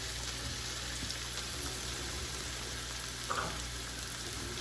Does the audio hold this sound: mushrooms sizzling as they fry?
yes